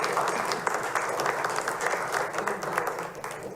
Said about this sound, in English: All the applause tonight.